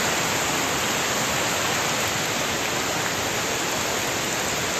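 A flooded creek running far above its normal level, loud and continuous rushing water filling the whole span as an unbroken roar, with no voices.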